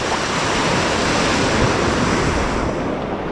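Ocean waves wash continuously onto a Gulf beach, a steady loud roar of surf mixed with wind rumbling across the microphone, with no voices.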